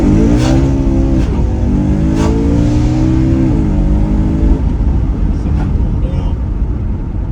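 A stage 2 tuned 440 bhp BMW E92 M3 Competition in M mode accelerates hard, its engine note climbing in loud rising sweeps, dropping at a gear change and then settling into a rough, steady roar.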